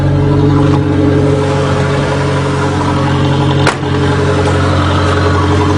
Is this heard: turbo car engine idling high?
yes